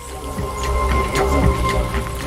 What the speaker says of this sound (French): Les pique-niques sous la pluie, c'est pas exactement ce que j'avais espéré.